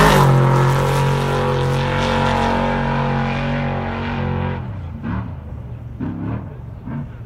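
An off-road race truck roars past during desert qualifying at the 2018 Parker 425, its loud engine holding steady and then fading with the drop in pitch of a pass-by, followed by a few distant revs.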